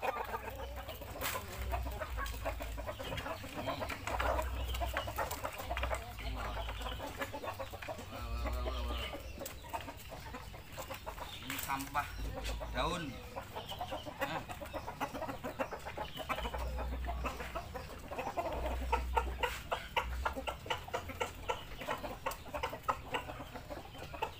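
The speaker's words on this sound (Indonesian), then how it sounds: "pejantan Brahma saya taruh di sini teman-teman biar indukannya bertelur nggak terganggu" Brahma chickens, a rooster among hens, cluck and murmur around a farm pen at moderate distance, with scattered calls over a constant low background rumble.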